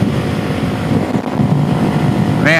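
A Suzuki DRZ400SM single-cylinder motorcycle engine drones steadily while being ridden, loud and close with rushing wind noise over it throughout.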